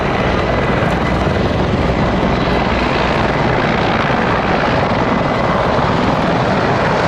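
Czech Air Force Mil Mi-17 and Mi-35 helicopters flying at an air show at Duxford, a loud, dense, continuous rotor and turbine roar that holds steady throughout with no pauses and no talk.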